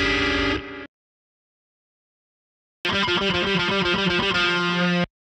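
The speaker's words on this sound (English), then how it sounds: "I add a couple little harmony parts to the lead guitar, and those sound like this." Lead guitar harmony lines from a Line 6 Helix preset come in two loud distorted bursts, a brief phrase, a gap of silence, then a longer run of quick repeated notes, with no voice over them.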